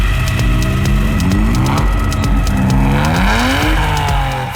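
A first-generation BMW M3 from the 1980s roars loud and close, its engine revving up and down through gears with rising and falling tones and some tire noise.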